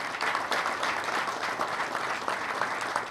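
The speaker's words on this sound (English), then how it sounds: "So please give him another round of applause." An audience at an outdoor boardwalk dedication applauds steadily, many hands clapping close and continuously through the whole stretch.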